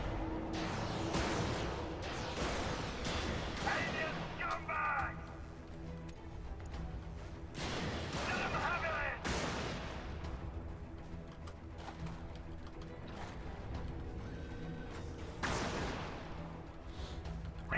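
Gunfire in the video game Helldivers, with a big handgun firing in scattered sharp shots and booming bursts over a steady background of game noise.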